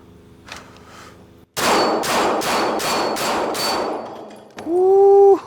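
A SIG Sauer P320 XFive pistol fires six sharp, evenly spaced shots at a steel target at about 7 to 10 yards. Each loud crack has a metallic ring, and a sustained ringing tone follows the string of shots.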